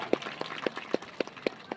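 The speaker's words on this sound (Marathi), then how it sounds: "तुम्ही जरी टाळ्या वाजवत असले तरी" Scattered, sparse handclaps from a small audience at a motivational talk, about seven distinct sharp claps spaced unevenly and fairly close, with no voices over them.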